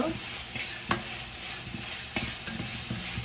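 A masala sizzles as it is sautéed for a crab roast, a steady hot hiss with spoon scrapes and light knocks against the pan, close and continuous.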